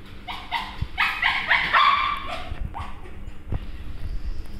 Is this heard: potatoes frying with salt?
no